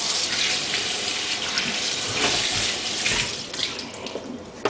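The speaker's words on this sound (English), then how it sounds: "what we're going to do is we're going to rinse it under cold water" Cold water runs steadily from a kitchen tap as a raw turkey is rinsed under it, a continuous splashing hiss with uneven spattering where the stream strikes the bird and the sink.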